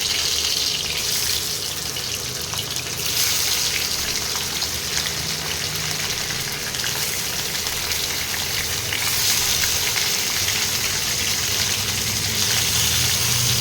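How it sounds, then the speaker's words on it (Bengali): Parshe fish frying in hot oil in a frying pan, a steady close sizzle and crackle running without pause, with no talking over it. "এটা একটু গরম হলে মাছগুলো ভাজবো"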